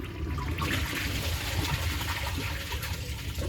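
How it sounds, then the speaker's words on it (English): An Eago toilet flushes for a second try with its tank near the water line, a steady, close rush of water filling and gushing through the bowl without a break. "And then I'll try a second flush."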